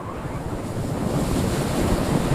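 Winter wind sweeping across snowy Yellowstone country, a steady broadband roar with gusty rushes that buffet the microphone, continuous and fairly loud throughout with no voices.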